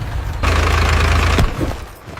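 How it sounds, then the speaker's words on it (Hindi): A tractor engine catches and runs with a loud, steady low rumble for about a second, then cuts back to quieter background noise. "ट्रैक्टर चालू हो गया। पानी से ट्रैक्टर चालू हो गया।"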